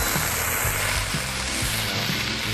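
Potatoes fry on a stovetop with a steady, loud, dense sizzle that fills the whole stretch, a few soft rhythmic stirs or pops underneath, no voices.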